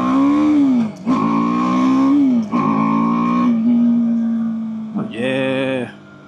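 A 2024 BMW G 310 R motorcycle being ridden close up, engine pitch rising under acceleration and dropping sharply at each gear shift, several upshifts in a row before the revs fall away.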